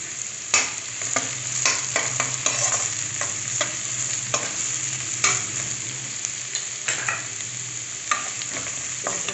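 Onion, ginger and chillies stir-fry for poha in hot oil, a constant loud sizzle with a spatula scraping and knocking the pan at irregular intervals.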